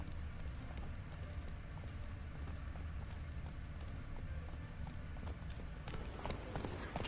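Horse hooves galloping at a steady rhythm in The Witcher 3 video game, a continuous run of clip-clop beats heard fairly close over the game's ambient background.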